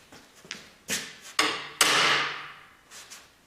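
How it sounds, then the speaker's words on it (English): Sharp wooden-sounding knocks from an inertia bullet puller striking a hard surface to free a bullet from a 8.15x46R rifle cartridge case, several close, loud blows with the longest ringing out and fading, no talk. "I've got a bullet puller."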